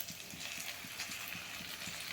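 Roti with egg and onion sizzles quietly in a pan, a soft continuous frying crackle with faint periodic scraping or stirring strokes.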